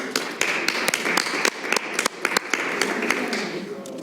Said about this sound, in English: I think we have to give another round of applause to the men who we serve with and who support us